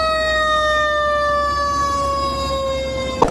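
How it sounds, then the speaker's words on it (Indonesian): A toy fire ladder truck's steady electronic siren wail holds on a single rising tone, loud and close, with a low motor hum beneath and a brief clunk at the end. "Ini ternyata truk tangga pemadam kebakaran."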